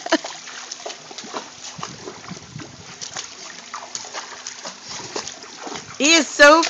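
A dog named Kilo swims and splashes in water, with small trickling and paddling splashes running steadily underneath and a louder burst of splashing near the end, while people talk and call to him throughout.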